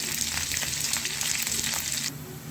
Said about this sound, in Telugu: ఇప్పుడు ఆనియన్స్, కరివేపాకు దీన్ని బాగా ఫ్రై చేసుకోవాలి